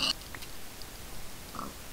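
A pig in the Minecraft video game gives short oinks, one brief grunt early and another near the end, over a quiet game background with no speech.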